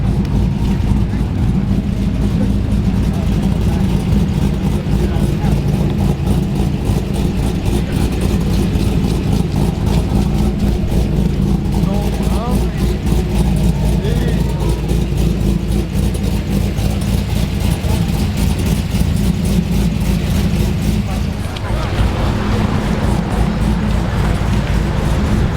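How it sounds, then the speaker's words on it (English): A Chevrolet Corvette engine at a wet cars-and-coffee meet, with a steady loud rumble of idling and revving throughout and people talking nearby. "Oh, it's a Corvette."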